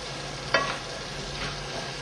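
Cabbage and apples cooking in a pan give a steady, soft sizzle with a brief clatter of stirring near the start, close and moderately loud, with no voices.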